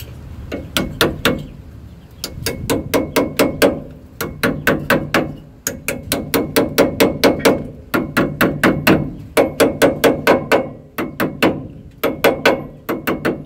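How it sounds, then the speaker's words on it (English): Clips being tapped into place on the rear brakes of a Ford F-150 during a pad and rotor change: close, rapid bursts of sharp metallic taps in quick rhythmic groups, repeated steadily with short pauses between. "just tap in the clips to hold it in place"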